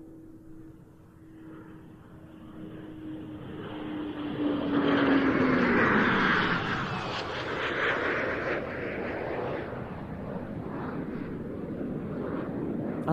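Eurofighter Typhoon fighter jet making a low pass at an airshow arrivals day, its engine roar swelling to a loud peak midway with a falling whine, then a sustained rumble lingering as it moves off.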